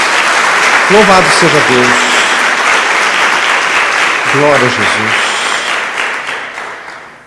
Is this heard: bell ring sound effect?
no